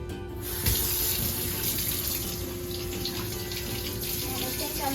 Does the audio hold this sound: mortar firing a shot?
no